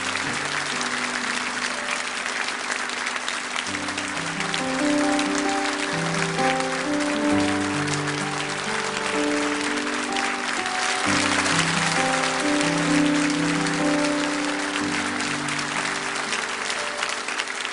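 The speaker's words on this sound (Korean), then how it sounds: "큰 박수로 축복하면서" Loud, sustained applause from a large church congregation, clapping continuously throughout with some musical tones underneath.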